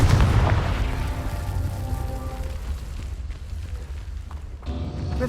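A Confringo blasting spell goes off in Hogwarts Legacy as a deep, booming explosion at the start, followed by a rumbling roar that lingers steadily through the rest of the clip.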